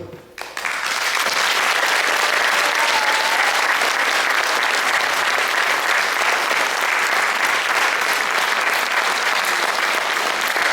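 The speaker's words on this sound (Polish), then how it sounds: "jeszcze raz gromkie brawa dla wspaniałych wykonawców" Sustained, dense applause from a concert audience fills the hall after folk ensemble performers finish, a loud steady wash of many hands clapping that starts abruptly and holds without pause.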